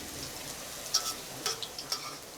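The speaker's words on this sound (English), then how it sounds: "Okay, let it fry." Krill fritters for Pikedel Grago, a Portuguese-Eurasian dish, fry in hot oil with a steady low hiss and a few brief crackling pops, quiet and with no voices.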